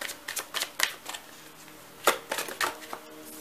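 Tarot cards being shuffled in a run of crisp riffling bursts, alternating with brief pauses, close and moderately loud with no talking.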